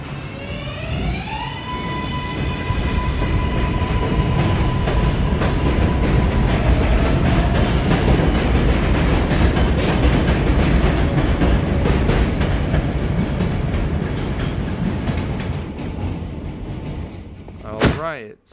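Subway train in the Minecraft game SubwayCraft pulling away from a station: a rising whine builds into a loud, steady rumble of wheels on track, holding for most of the stretch before fading, with a sharp knock near the end.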